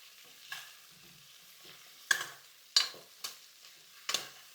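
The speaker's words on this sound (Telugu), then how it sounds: "పాయాని నూనెలో వేసి మంచిగా ఫ్రై చేసుకుందాము." Goat trotters (paya) frying in oil with onions, a quiet sizzle broken by several sharp stirring scrapes at uneven intervals, with no voices.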